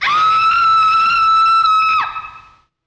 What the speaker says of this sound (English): the bride lets out a primordial scream of terror